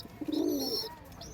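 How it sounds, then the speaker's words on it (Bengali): A pair of Phulshira pigeons cooing close by, a single soft, rolling coo rising and fading over roughly a second, with a brief higher chirp near the end and no talking. "এই দেখুন পায়রা দুটো শখ করুন"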